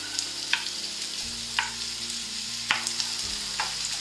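Two small onions frying in a hot oiled pan: a close, dense sizzle, with a few sharp utensil taps against the pan at intervals and no talking.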